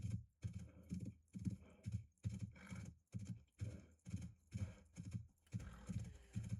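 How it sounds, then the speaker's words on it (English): Hooves clip-clop in a steady, repeating gallop rhythm as a horse crosses the desert in a sandbox video game, loud and close with no talk over it. "Deserts are good for horse riding."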